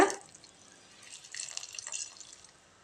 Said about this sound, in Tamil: இது வேகிறதுக்கு ஒரு 1 டம்ளர் தண்ணி விட்டுக்கலாங்க.